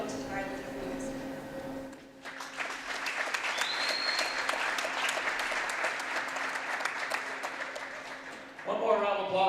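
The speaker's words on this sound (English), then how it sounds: "One more round of applause for all of our seniors and 4th grade students." Crowd in a gym applauds the seniors at a girls' high school basketball game. Steady clapping starts after a brief spoken lead-in and carries to the end, where a voice returns over the tail of the applause.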